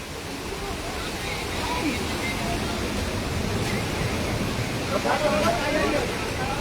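Floodwater from heavy rain rushes over the Guadalupe bridge in Cebu, a dense, continuous roar of torrent with faint voices in the background.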